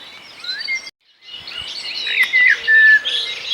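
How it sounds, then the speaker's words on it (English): Birds singing by a canal at dawn, with clear chirps and whistled phrases against a steady outdoor hiss and a brief pause. "You can hear the birds singing,"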